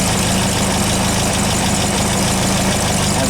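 A car engine idles steadily and loudly close by, a continuous low rumble with no pauses, on a car fitted with an electric fuel pump that has a check valve.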